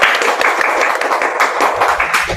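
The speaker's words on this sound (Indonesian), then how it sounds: "Tepuk tangan untuk bintang tamu kita kali ini." Studio audience clapping for guest stars on an Indonesian tax podcast, a steady dense patter of hands lasting the whole moment with no talk over it.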